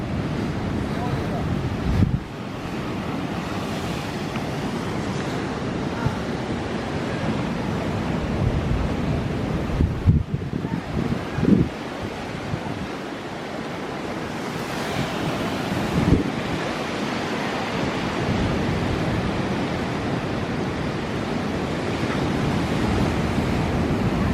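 Ocean surf rolls in at a Cancun all-inclusive resort beach, a loud continuous wash of breaking waves mixed with gusty wind buffeting the microphone, with brief louder surges along the way.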